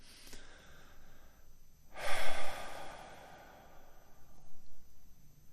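Slow breathing during a guided meditation: a soft breath early, then a strong, close inhale-exhale, followed by quieter breaths, with no talk.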